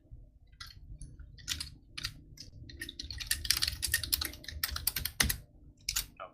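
Code for a Minecraft Beta 1.7.3 server plugin is typed on a computer keyboard: quick, close, irregular bursts of clicky keystrokes with short pauses, no voices.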